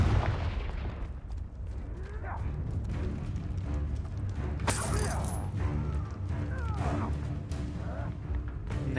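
A Confringo fire spell blast in the Hogwarts Legacy video game, heard as a sharp burst and crackle over continuous low game rumble and mechanical ambience, with brief tonal effects scattered around it.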